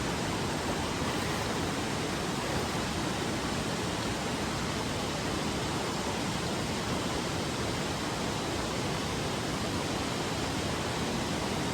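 A waterfall on a Konkan coast trip pours in a constant, full-bodied roar of rushing water, unbroken and steady throughout.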